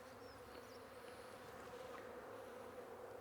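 Honey bees buzz around a brood frame holding eggs and pollen during a search for breeder queens, a steady, moderately quiet hum with occasional individual bees passing close by.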